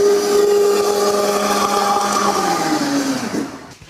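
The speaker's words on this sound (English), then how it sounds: "Into the blender until smooth" A kitchen blender purees cooked apples until smooth, its motor whirring loudly and dropping slightly in pitch before cutting off near the end.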